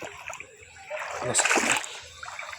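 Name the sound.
water splashing at the sea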